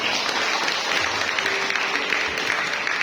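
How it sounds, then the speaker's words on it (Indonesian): Steady, full applause from a church congregation at a Good Friday service, dense continuous clapping holding at an even level throughout without voices over it. "Tepuk tangan untuk Tuhan"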